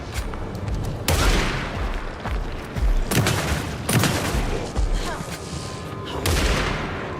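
A shotgun in Alan Wake 2 fires two loud, booming blasts in quick succession with no reload between them, then more heavy shots ring out over a dense, rumbling game soundscape, with a voice talking faintly underneath.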